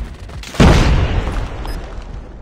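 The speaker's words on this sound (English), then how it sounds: "Grenade out!" A grenade explodes in Call of Duty Mobile during a search-and-destroy match, one loud deep boom with a long rumbling decay, alone without talk.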